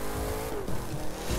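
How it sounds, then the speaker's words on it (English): Car engine in the racing video game The Crew 2, a steady low revving drone with rising pitch sweeps and brief surges, loud and continuous throughout. "you've got to start the engine before you can start revving it"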